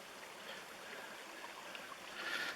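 Small stream trickling at a water source in a canyon, a faint, steady gurgle and rush from a short distance with a slight swell near the end.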